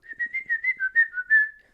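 A person whistles a short, bright melodic line of about eight quick notes with small pitch glides, clear and close, heard alone in a quiet room.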